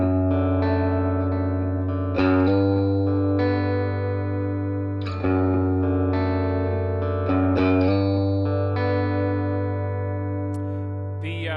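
Electric guitar played through a Swart AST Atomic Space Tone combo amplifier with a little reverb added, clean sustained chords struck every few seconds and left ringing, loud and close.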